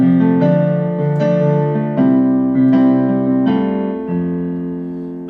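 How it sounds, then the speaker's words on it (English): A 4-6-5-1 chord progression played on a keyboard instrument, five or six sustained chords struck in a steady rhythm, close and clear, the last chord ringing out and fading, with no talking. "One of the more common progressions we see now is there's a 4-6-5-1, which sounds like this."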